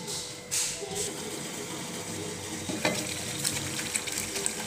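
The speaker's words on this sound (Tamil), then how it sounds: "இது மாதிரி நல்லா கொதிக்கணும்" A pot of spiced masala for goat intestine fry bubbles and sizzles steadily on the stove, with occasional small pops and clinks, close and moderately loud, no one speaking.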